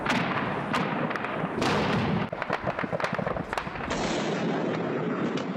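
A rapid burst of gunshots crackles in sharp, dense volleys in Kirkuk, northern Iraq, loud and echoing, with scattered single cracks continuing afterward.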